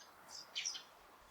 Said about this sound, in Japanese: 鳥の声が聞こえます。